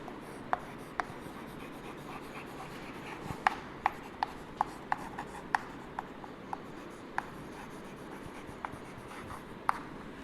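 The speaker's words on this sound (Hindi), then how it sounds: "मैं नाम लिख देता हूँ हेमंत और निशांत" Marker or chalk writing names on a classroom board: soft scratchy strokes with sharp little taps as the tip meets the surface, scattered irregularly over ten seconds in a quiet room, no voice heard.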